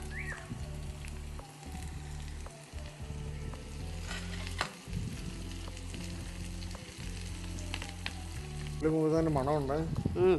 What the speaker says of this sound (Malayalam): കടുക് പൊട്ടി തുടങ്ങാം നമുക്ക് കൊച്ചുള്ളി ഇട്ട് കൊടുക്കാം